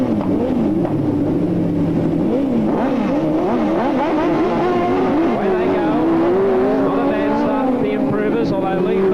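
Speedway sidecar machines at a 1985 Newcastle meeting roar off the start together, engines rising and wailing in overlapping pitches, loud and continuous, with a commentator talking over them.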